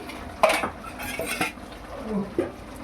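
Ingredients such as chillies tipped into a metal cooking pot for a Rayalaseema dried fish and black-eyed pea curry, giving a few clanking knocks of utensil against pot with soft stirring between, close and moderately loud.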